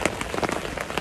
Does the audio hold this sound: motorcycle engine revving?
no